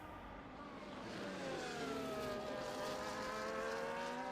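F1 24 race car engine at Imola out of Tamburello, a steady high-pitched whine rising through the gears, loud and continuous with other cars close around it, no talk.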